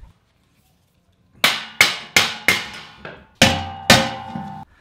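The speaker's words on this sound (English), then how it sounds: "I'm using the right tools for the job. I call this the ply hammer." A hammer called a ply hammer is struck indoors after a quiet opening: seven sharp, loud, ringing blows at a fairly even pace, each decaying quickly before the next.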